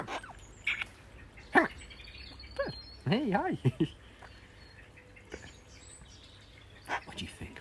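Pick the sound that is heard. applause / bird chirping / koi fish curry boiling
bird chirping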